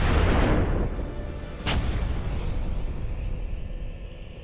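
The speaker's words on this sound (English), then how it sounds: "the howitzer can be fired while on the move." An M109 Paladin self-propelled howitzer fires once with a loud, deep boom that rolls out and decays, followed by a sharp crack and a long fading rumble, with no voices.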